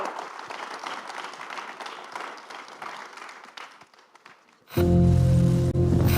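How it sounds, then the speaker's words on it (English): An audience applauds a panel at an EU geoeconomics discussion, starting suddenly after a quieter stretch of crowd noise and continuing as loud, dense, steady clapping through the end. "Please give them a warm applause for this great panel."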